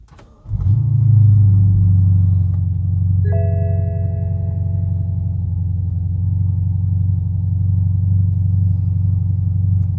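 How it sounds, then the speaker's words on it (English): A 2013 BMW F10 550i starts with a sharp crank and settles into a steady, deep idle rumble heard up close, with a brief chime tone partway through and no talking. "Now I'm gonna hook it all back up, turn the car on, and see if it works."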